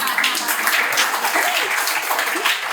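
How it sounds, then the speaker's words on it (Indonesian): An audience breaks into sustained applause, a dense wash of clapping that continues throughout, with faint voices underneath. "Tepuk tangan dulu dong"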